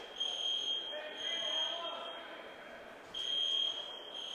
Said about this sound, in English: There's currently a fire alarm going off in the field house.